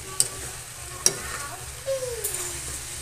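Spicy chicken and vegetables are stirred in a frying pan, with a soft background sizzle, a couple of sharp scrapes and clinks of the utensil against the pan, and a brief swish of food being turned.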